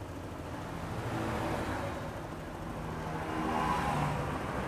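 A Honda Vario 125 scooter with idling trouble and heavy fuel use starts and runs, giving a steady close engine drone that swells slightly toward the end.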